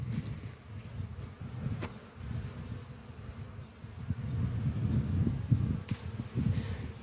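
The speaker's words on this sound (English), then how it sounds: "So all the bees look a little busy." Honey bees buzz around blooms in an apiary field, a steady, dense hum of many insects with a few louder passes close by, outdoors without talk.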